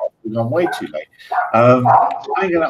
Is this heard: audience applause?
no